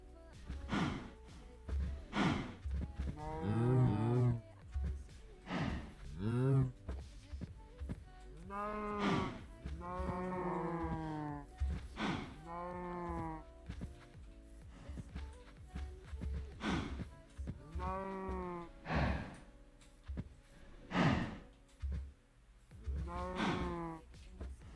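Cows moo in the video game Minecraft: Sky Factory 4, with repeated drawn-out, sliding moos overlapping one another in uneven bursts over about twenty-five seconds.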